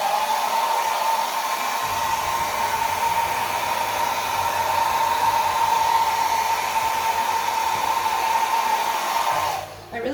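A hair dryer blows steadily onto wet acrylic pour paint, a continuous close whoosh that runs at an even level almost the whole time before dropping off briefly near the end.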